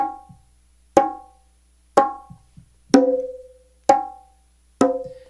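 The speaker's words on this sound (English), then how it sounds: "So the first tone I'll show you is the open tone." Six resonant open tones struck on a bongo, each ringing briefly at an even, unhurried pace, with a few softer taps between them.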